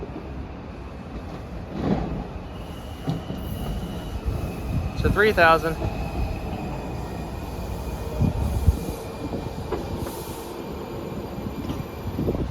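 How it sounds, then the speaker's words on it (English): A train rumbles along the rails with a sharp metallic wheel squeal rising midway, steady low rolling noise throughout and a brief spoken phrase. "It's just train 2 of the day."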